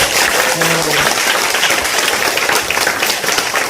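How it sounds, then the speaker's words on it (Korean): An audience at a Korean parenting education event applauding the children, a dense steady wash of clapping that fills the whole stretch, loud and close, with a few voices mixed in. "전부 다 애들한테 수고했다고 박수 쳐주시고"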